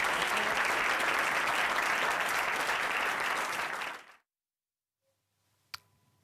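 Dense audience applause fills the opening four seconds at strong, steady volume, then cuts off abruptly into near silence broken by a single sharp click.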